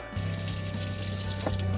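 Water pumped from a small sink tap inside a camper van, starting with a click and then flowing steadily as a continuous close hiss over a low pump drone.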